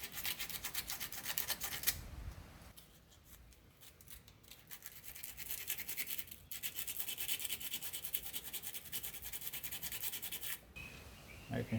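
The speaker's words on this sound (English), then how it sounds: "I'm going to take some sandpaper, sand the rust off of that" Sandpaper rubs rust off metal on a 1998 Jeep Wrangler front bumper, a close, rapid back-and-forth scratching that pauses briefly twice and resumes, with no talking.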